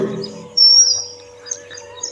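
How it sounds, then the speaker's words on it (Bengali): A male red avadavat, or strawberry finch, gives a thin, high chirp that rises and holds for a moment, followed by a few fainter, shorter notes. The bird sounds close, against a quiet background hum. "এরাকেই বলছি রেড অ্যাভাডাড বা স্ট্রবেরি ফিঞ্চ বা লাল মুনিয়া"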